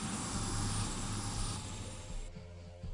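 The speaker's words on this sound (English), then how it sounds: "follow that helicopter" In the video game Final Demand, an aircraft drones steadily with a dense, broad engine roar and low rumble, loud and continuous, easing slightly toward the end.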